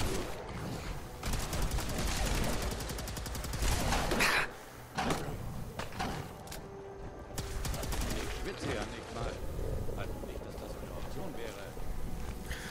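Gunfire in the Fallout 4 Far Harbor expansion, dense bursts of rapid shots in the first few seconds, then scattered combat sounds and a continuous game soundscape under a man's speech.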